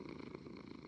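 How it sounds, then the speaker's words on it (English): A cat purrs on a bed in Minecraft, a soft continuous low rumble that stays steady and fairly quiet throughout, with no voices over it. "And now Bubbles is just lying on the bed purring."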